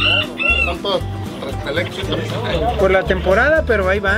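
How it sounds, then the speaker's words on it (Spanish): Show hens at a breeding farm cluck and chatter steadily and loudly in the foreground while someone talks over them. "Muy bonitas también las gallinas"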